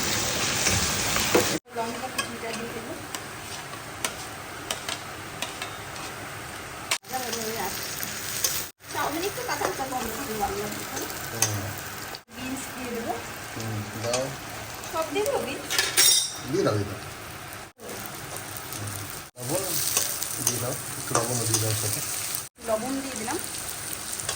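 Chopped ginger, onion and garlic frying in a pan while chowmein is prepared, a constant crackling sizzle with repeated spatula scrapes and clanks against the pan. A person talks intermittently over it, and there are several abrupt cuts.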